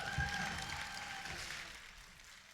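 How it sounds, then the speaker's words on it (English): An audience claps for Adriana at an outdoor July 4 Free to Dream grand ceremony, a moderate spread of applause that starts fairly full and slowly fades, with a faint tone lingering early on. "Another round of applause, please, for Adriana"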